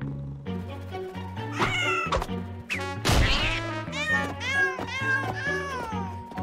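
A cartoon cat meows repeatedly in loud, drawn-out cries over a bouncy musical score, with a sudden crashing thwack partway through.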